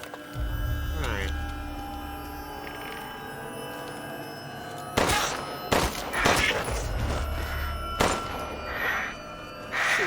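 Gunfire from a regular gun in the video game Resident Evil Village, several sharp shots clustered in the second half over a steady low hum, with a voice talking in the background.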